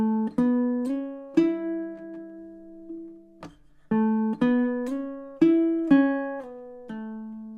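Fingerpicked riff on a baritone ukulele, played as a bass duet: a steady run of plucked notes and chord hits in even rhythm, with one long held chord in the middle, close and clean with no voices.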